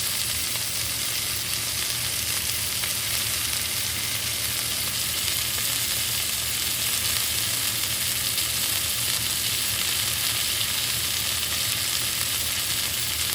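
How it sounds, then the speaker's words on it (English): Chicken fajita pieces sear in hot oil in a pan, giving a steady, close, dense sizzle that holds evenly throughout with no talking over it. "I'm just searing any sides that did not get seared."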